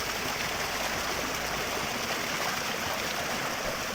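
Steady broadband rush of a waterfall and stream of crystal-cold water, continuous and fairly close, with no voices over it.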